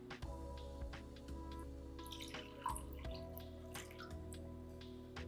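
Half a cup of water is poured into a glass, a quiet trickling and dripping with small splashes against a faint humming background.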